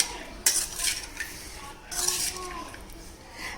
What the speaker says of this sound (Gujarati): હવે આપણે તેને સરસ હલાવી દઈશું